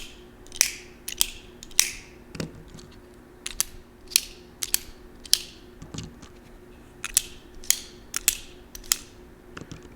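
A Milwaukee Fastback utility knife blade repeatedly flipped open and snapped shut, a series of crisp close mechanical clicks and ratcheting snaps in an irregular rhythm, quiet otherwise with no talk.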